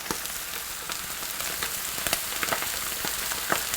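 Pork neck steak sizzling in a frying pan for Korean barbecue, a steady dense crackle and hiss with scattered sharp pops, close and fairly loud with no voices.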